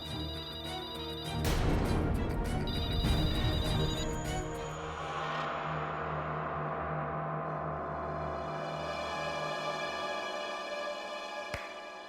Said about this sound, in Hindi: फोन मत उठाना, कोई फोन मत उठाना।